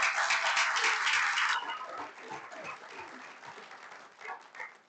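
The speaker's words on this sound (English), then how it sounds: "I want to give her a round of applause." City council meeting attendees clap in a brief, moderately loud burst that fades after a second or so into scattered trailing claps and faint room noise.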